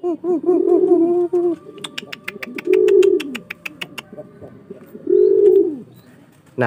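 A courting pigeon gives three clear, rounded coos, each about a second long, close and alone, with a rapid run of sharp clicks between the second and third.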